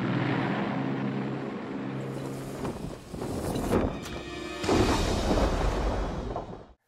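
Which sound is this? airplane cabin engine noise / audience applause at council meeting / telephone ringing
airplane cabin engine noise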